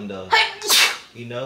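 A single loud, sharp sneeze bursts out between stretches of casual conversation, with someone talking before and after it.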